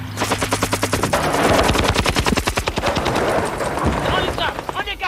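Rapid bursts of automatic gunfire crackle in a fast, continuous rhythm during an Australian SAS training exercise, loud and close, with shouting voices among the shots.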